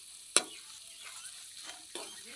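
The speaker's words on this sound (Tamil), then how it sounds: "வெங்காயம் வதங்கிட்டு இருக்கு நண்பர்களே." Onions sautéing in a pan for crushed crab rasam give a faint, soft sizzle, punctuated by a sharp utensil clink and a couple of quieter stirring scrapes.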